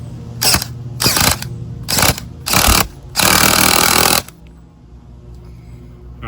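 A power drill bores down into the ground to anchor a basketball hoop, running in four short loud bursts and then one longer sustained run before stopping.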